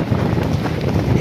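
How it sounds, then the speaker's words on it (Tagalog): Strong typhoon wind buffets the microphone outdoors during heavy rain in Daet, making a loud, continuous rumbling roar with gusty fluctuations throughout. "Sobrang lakas ng ulan."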